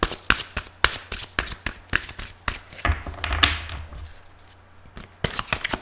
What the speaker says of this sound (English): Some enjoy watching the shuffle and some don't.